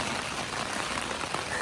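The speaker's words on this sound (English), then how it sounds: "now we're getting a lot more rain" Steady dense rain patters on a tent at a camp along the Mount Whitney route via Shepherd's Pass on a windy night, a constant close hiss filling the whole stretch with no voices.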